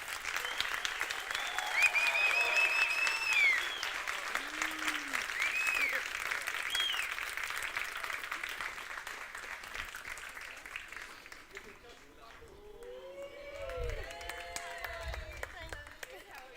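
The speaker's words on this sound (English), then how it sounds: "Please give them a big round of applause." Audience applause at a graduation ceremony for the Football Business Academy: sustained, dense clapping from a crowd with whoops and scattered voices, fading toward the end as talk resumes.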